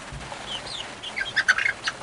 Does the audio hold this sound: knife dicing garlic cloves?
no